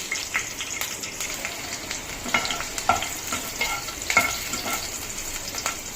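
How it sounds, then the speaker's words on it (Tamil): Whole spices (cinnamon, cloves, cardamom, bay leaf) and broken green chillies frying in 3-4 teaspoons of hot oil for a coconut milk chicken curry, a steady close sizzle with scattered crackles and stirring scrapes, no voices. "ஒரு 3-4 டீஸ்பூன் அளவுக்கு எண்ணெய் ஊற்றிக்கோங்க. இப்போ வந்துட்டு பட்டை, கிராம்பு, ஏலக்காய், அப்புறம் பிரியாணி இலையை போட்டுக்கிறேன்."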